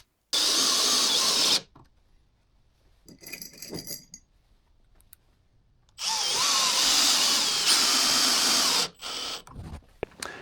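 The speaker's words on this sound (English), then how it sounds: "put some screws in to hold the back on" A power drill drives screws to fix the back panel onto a removable box for a DIY sliding table saw bench in a workshop. Two long whirring runs are separated by quieter handling noises and short drill bursts.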